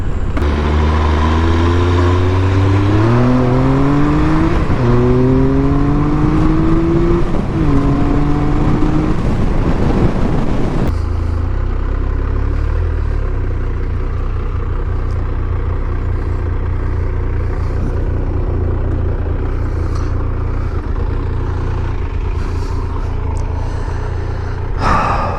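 A 1997 Triumph Speed Triple T509 motorcycle on the move: the engine climbs through several gear shifts with rising pitch sweeps, then settles into a steady loud drone with wind rush, close throughout with no talk.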